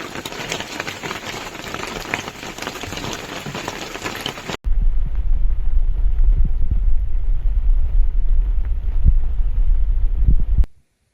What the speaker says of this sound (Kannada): ಮಳೆ ನೋಡಿದ್ರೆ ಈ ಥರ ಬರ್ತಾ ಇದೆ.